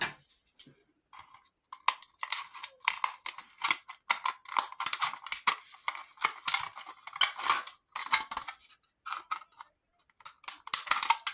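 Scissors cut up an aluminum Arizona tea can, snipping the top off in quick, crisp, irregular metallic snips and crinkles. The cutting is close and alone, with short pauses between bursts.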